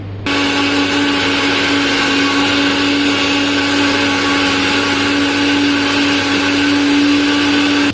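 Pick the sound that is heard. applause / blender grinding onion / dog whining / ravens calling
blender grinding onion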